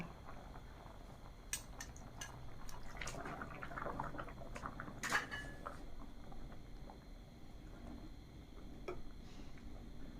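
Pieces of catfish drop into a pot of simmering Thai catfish curry with pickled bamboo shoots, giving scattered splashes, drips and bubbling clicks, fairly close and quiet, with no talking.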